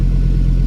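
Swapped 5-cylinder engine in a Mazda Miata idling rich just after starting, a close, steady low throb with a rhythmic pulse and no change in pitch over a brief moment.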